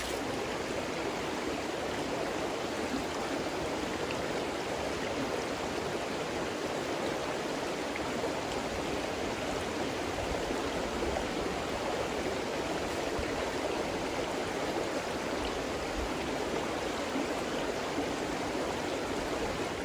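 A creek at the Abrams Creek campsite in the Great Smoky Mountains flows with a steady, close, broadband rushing and trickling that holds constant throughout, with no voices.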